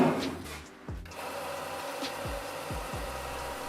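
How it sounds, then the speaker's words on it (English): A belt sander sanding an epoxy puzzle whirs in a steady drone, with a few brief pitch drops as material is pressed against the belt. "now it's time to sand everything down on the belt sander"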